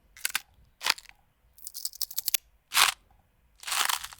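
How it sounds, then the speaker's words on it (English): Several sharp, dry cracking crunches, a few seconds apart with silence between them, each like a bone snapping, with the last one longer and grittier. "Bone break sounds good as well."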